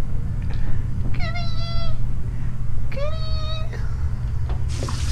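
A cat meows twice, two clear drawn-out meows a couple of seconds apart, heard close over a constant low rumbling background.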